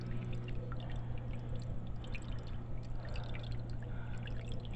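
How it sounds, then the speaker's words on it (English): Water runs and trickles without a break beneath a homemade indoor pond, a steady, close, fairly loud wash with small drips through it and no voices. "looks like we have some leak here underneath"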